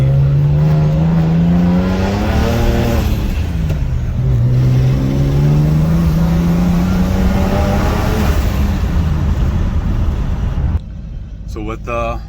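A BMW 1M pulling smoothly through its revs from inside the cabin, a steady engine drone rising and dipping in pitch for about ten seconds before dropping away, with a voice talking over it.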